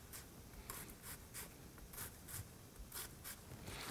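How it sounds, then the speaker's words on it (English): A knife cuts into a red onion with quick, crisp slicing strokes, about ten evenly spaced cuts made close up and quietly, with no talking. "cut into the onion."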